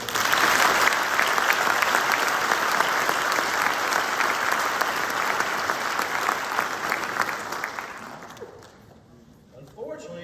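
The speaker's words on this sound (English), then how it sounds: "How about a round of applause for them?" Crowd at a public-safety awards ceremony claps for the nominees, loud dense applause that stays strong for most of the stretch before fading out, with a voice coming back at the close.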